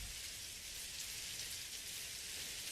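Recorded rain plays quietly in the background as a soft, even, high hiss with no voices or breaks.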